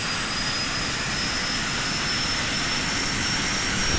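Jet airplane in BeamNG.drive roaring during takeoff, a loud, steady broadband engine rush with a high whine running throughout, no voices.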